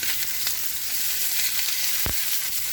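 Ahi tuna crusted with cracked pepper, sesame seeds, garlic and ginger sears in hot oil in a pan, giving a steady close sizzle with one brief louder pop.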